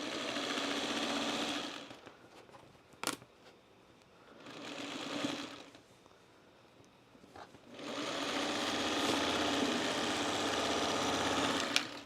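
A sewing machine runs the final seam of an Americana quilt block in three bursts, a close whirring hum that stops and restarts twice with brief quiet gaps and small clicks, ending in a longer steady run.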